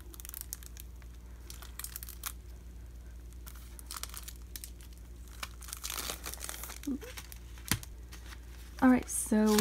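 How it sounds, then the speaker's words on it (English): Plastic wrap is peeled and crinkled off a CD album, soft, close crackling and rustling over a low hum, ending in a few louder crinkles. "And let me just take it out of the plastic."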